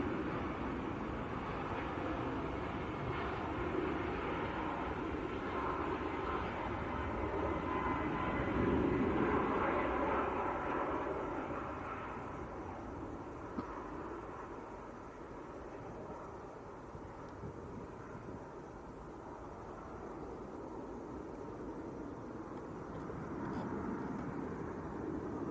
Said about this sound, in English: this is a Ryanair to Faro. A Max 8.